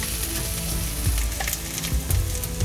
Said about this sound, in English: chopped garlic, so I'm just frying this thing